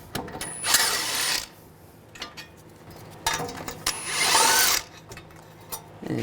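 Brake caliper bracket bolts on a Honda CR-V come out under a 19mm socket, two loud bursts of power-tool whirring separated by quieter ratcheting clicks and handling noise, close by with no talk.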